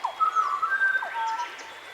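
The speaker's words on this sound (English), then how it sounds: "your breathing pattern will change and the birds will call out to you." Thin, whistled bird calls from a meditation app chirp and trill over a quiet background, several short notes overlapping in a light, airy pattern.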